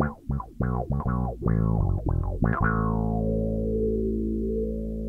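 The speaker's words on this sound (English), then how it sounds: "here's the sound of a passive P-bass with the GR2" Passive P-bass runs through a 3Leaf Audio GR2 envelope filter with an MXR Bass Octave Deluxe in its loop, giving a quick run of funky, quacking plucked notes that ends on a long, sweeping, sustained note.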